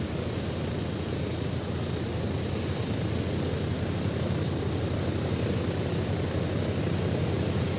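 Steady aircraft engine drone in ArmA 3, a continuous low rumble with rotor or propeller character, holding level and close throughout without any talk.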